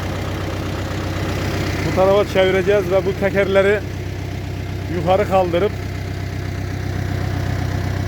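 A tractor engine idles with a steady low rumble throughout in a wheat field, while someone speaks over it for a few seconds.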